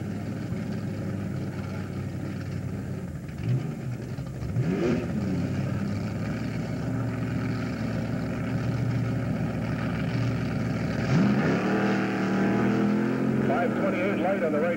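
A 1987 drag race at Oyster Bed Speedway as cars, one rated at 325 horsepower, roar and rev hard down the strip, the engines rising in pitch, while an announcer talks over the steady mechanical noise.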